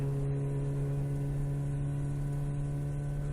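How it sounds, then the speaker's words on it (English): A tuned hot rod engine on a dusty trail hums steadily and evenly throughout, a constant low drone with no breaks. "the engine sounds great, humming and clicking along"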